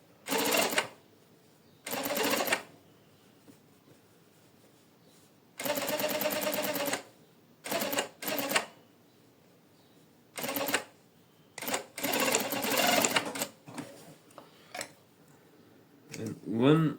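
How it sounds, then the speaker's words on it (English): Sewing machine stitching a double welt pocket, running in repeated short bursts of rapid mechanical stitching with brief pauses between them. Clear and close. "Position and start to sew."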